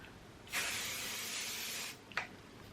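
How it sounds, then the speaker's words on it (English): A single steady hiss of hairspray from an aerosol can lasts under two seconds, followed by a brief short puff, close and fairly soft, sprayed lightly on waved hair. "I just give it a really light spray and a bit of a whoosh."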